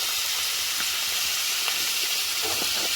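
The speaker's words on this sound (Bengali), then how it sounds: "পেঁয়াজটা লাল হয়ে যাওয়া মাত্রই দিয়ে দিলাম সবজিটা" Vegetables fry in a pan over browned onion, giving a steady, loud, even sizzle with a few faint clicks of stirring and no talk.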